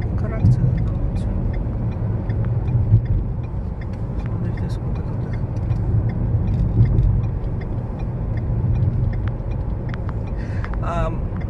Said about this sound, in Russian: Ты смотри, трафик какой, господи, что так много машин-то?